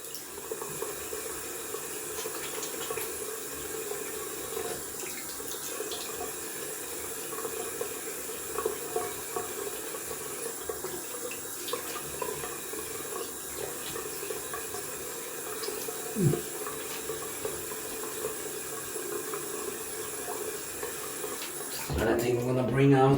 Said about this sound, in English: Gonna rinse off cold water.